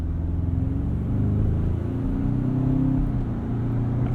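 A 2019 Ford Ranger Supercab 4x4 Lariat EcoBoost engine revs at close range, a steady low, truck-like rumble that swells and eases slightly without a break.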